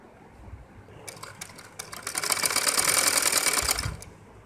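A sewing machine stitches a sleeve onto a baby's butterfly frock, a faint whirring run that starts softly and builds over a few seconds before easing off, close by and with no voices.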